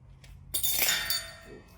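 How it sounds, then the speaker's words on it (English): Broken glass pieces clink and rattle inside a restored 1984 Video Vendor VHS vending machine, a sharp jangling burst of shards after a soft knock, ringing out and fading over about a second. "Broken glass."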